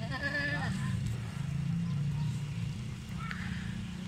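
A young goat bleats at a goat market and farm in Dera Ghazi Khan, Pakistan, letting out a wavering cry near the start and a brief call later, set against constant murmuring crowd chatter.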